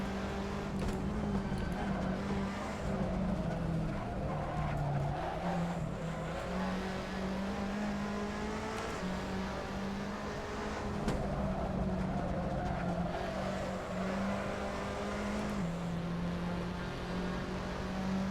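Fiat Tipo race cars lapping the Lausitzring in a racing video game, engines holding a steady, close droning note with shifting pitch that runs without pause throughout.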